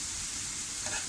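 Slices of suran (yam) shallow-fry crisp in a pan, producing a brief, steady, soft sizzle with a faint scrape near the end and no talking.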